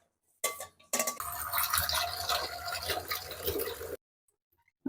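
Vermicelli ingredients being rinsed in water, with close sloshing, splashing and light clattering against a bowl or pot, steady for about three seconds between short pauses.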